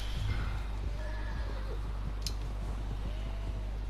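A horse in the video game Red Dead Redemption 2 whinnies over a steady low rumble, with soft hoof clip-clops and a brief sharp click partway through.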